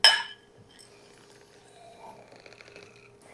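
A sharp clink of drinking glasses tapped together in a final toast among friends, a single bright ring that fades over a low background murmur of a room.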